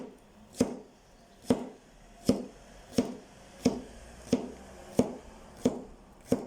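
A knife chops spring onion on a cutting board for pad Thai in slow, even strokes, each a sharp, close knock, about eight of them spaced under a second apart.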